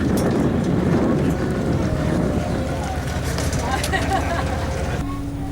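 An Auckland harbour boat's engine drones under gusting wind buffeting the microphone, a loud, continuous rumble, and a faint tonal hum comes through near the end.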